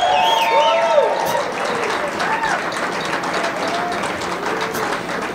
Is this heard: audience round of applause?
yes